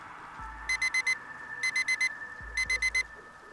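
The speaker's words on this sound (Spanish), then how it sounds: "El sonido de mi teléfono con la alarma me despertó de repente." A phone alarm rings in three separate bursts, each made of four quick, bright beeps over a steady background hum, with low thuds between the bursts.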